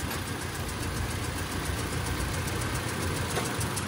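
A Toyota Fortuner engine idling during an ignition coil test for a misfire, a steady, close, mid-pitched engine drone with a faint regular pulse throughout and no talking.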